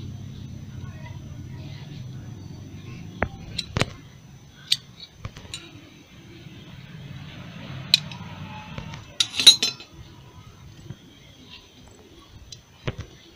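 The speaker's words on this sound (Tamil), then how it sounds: "மிச்ச துணியையும் நறுக்கி விட்டுக்கோங்க." Scissors snip through cloth for a door mat in several sharp, uneven cuts, close by, with soft rustling and handling noises in between.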